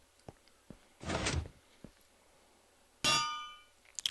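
An anvil dropping and landing in Minecraft: a short clanking thud, then a second sharp metallic impact that rings out and fades, with faint clicks around them.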